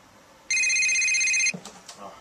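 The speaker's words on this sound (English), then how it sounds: "Oh, phone's ringing." A phone rings with one loud, steady electronic ring of bright stacked tones lasting about a second, then cuts off. A voice begins speaking right after it, in a quiet room.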